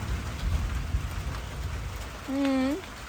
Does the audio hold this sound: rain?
yes